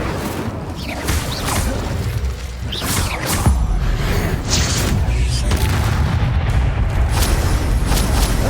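In the video game Hogwarts Legacy, the Incendio fire spell is cast repeatedly, producing loud booming bursts and whooshing flares over a dense, continuous game soundscape.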